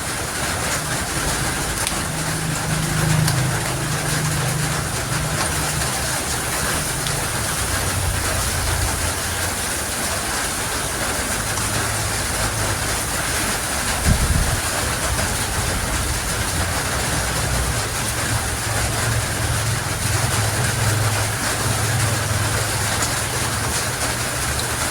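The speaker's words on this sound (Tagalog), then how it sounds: "Ang lakas ng ulan na naman." Heavy rain pours steadily in a continuous broad hiss, loud and close, during home cooking of stir-fry pork with vegetables, with a low rumble drifting underneath and a brief knock partway through.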